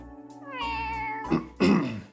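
A cat in the video game Trails to Azure gives a couple of clear, close meows, a longer drawn-out call followed by two short, sharper cries.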